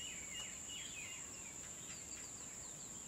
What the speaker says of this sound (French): Et le bruit des oiseaux,